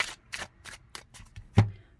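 A tarot card deck being shuffled by hand, giving a series of crisp riffling bursts roughly every third of a second, ending in a louder snap as the cards settle, close and clear with no talking.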